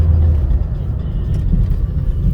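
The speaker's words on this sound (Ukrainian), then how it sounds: "Ось так ягуар їде." A Jaguar X-Type 2.0 diesel with common-rail Delphi injection, freshly repaired injectors, drives along with a steady low engine and road rumble, close and continuous.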